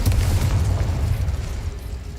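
Explosion of a Confringo blasting spell in the Hogwarts Legacy video game, a deep, heavy boom up close that rumbles and slowly fades over two seconds.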